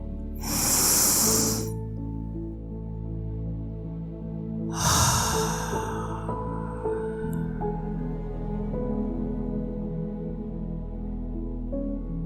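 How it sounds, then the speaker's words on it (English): Two deep inhaled breaths, slow and breathy, rise over a soft sustained musical backdrop during a guided meditation, each lasting a second or two and spaced a few seconds apart, close and clear with no talking. "And another inhale."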